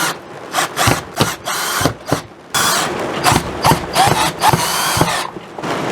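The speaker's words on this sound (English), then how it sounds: "Now we're going to start putting the screws back. Go right back in the exact same holes." A power drill drives screws back into the housing of a broken BAL Accu-Slide gearbox, whirring in short loud bursts with brief pauses and one longer stretch of steady grinding, close up with no talking.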